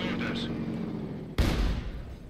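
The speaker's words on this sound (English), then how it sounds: "You'll be able to lob the rounds over the house." A Soviet SU-76 self-propelled gun firing in Company of Heroes 2, one sharp loud boom partway through with a rumbling tail, heard under someone talking.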